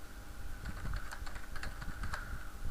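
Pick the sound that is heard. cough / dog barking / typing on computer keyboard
typing on computer keyboard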